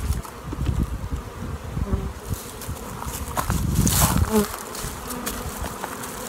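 Honeybees buzzing loudly and continuously as a hive frame of drone brood is shaken, a dense close swarm hum that swells in the middle, with handling knocks and no talk.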